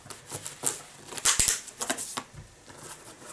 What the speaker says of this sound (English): First I have to cut the nylon to be able to open it.